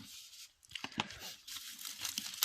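Parchment paper is torn and crinkled in a few quick, close ripping bursts, crackling softly and quietly between them, with no talking.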